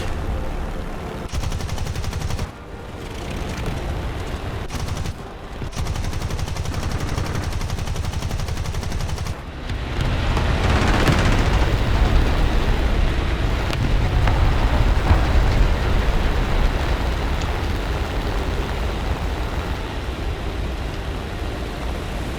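Continuous loud battlefield din from an artillery-focused video game, a dense roar of booming artillery and rattling gunfire with a few brief dips, rising heavier midway and staying relentless to the end.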